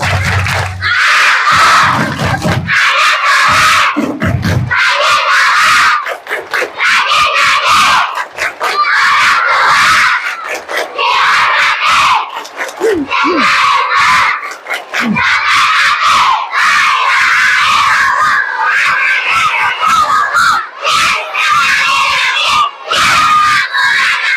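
Loud, sustained shouting from a crowd of children at a religious storytelling event, bursts of yelling that rise and drop repeatedly over the full span, close and overpowering.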